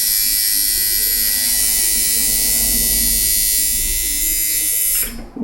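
A coil tattoo machine, stripped to its metal parts, runs with a loud, steady electric buzz close by, then cuts off abruptly near the end.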